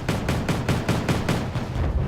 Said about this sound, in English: And then that starship just starts firing on these tanks.